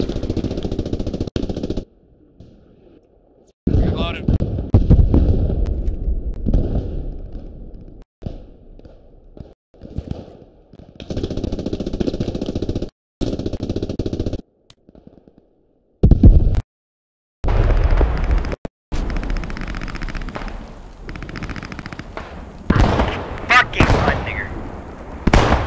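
Gunfire and explosions in the Post Scriptum video game, coming as broadband bursts and sharp cracks that start and stop, with short silent gaps between them and loud volleys toward the end.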